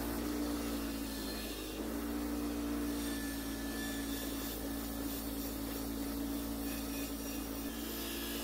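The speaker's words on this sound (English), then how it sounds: "I'm going to polish off any burrs on the edges and make it smooth, and then get rid of any rust that's on there" Steel angle iron is polished of burrs and rust, made ready for welding a digging fork, producing a loud, steady abrasive whirring and rubbing with a constant droning hum that runs unbroken throughout, no voices.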